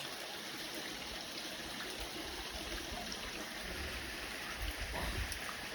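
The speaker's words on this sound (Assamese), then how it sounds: "পূৰা পানী পৰিছে ওপৰৰ পৰা" Steady rushing and trickling water fills a jungle cave, a continuous splashing flow pouring down from the cave ceiling, close and fairly loud.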